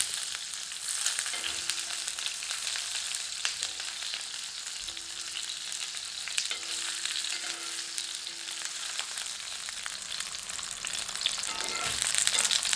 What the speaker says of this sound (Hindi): चम्मच या चिमटे की सहायता से इन्हें घुमा घुमाकर पलटते रहें ताकि यह समान रूप से तले जा सकें।